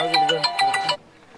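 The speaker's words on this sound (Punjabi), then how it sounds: "ਫੋਨ ਆ ਗਿਆ" An incoming call sets off a mobile phone ringtone, a loud, close, bright melodic jingle of quick repeated notes. It stops abruptly after about a second.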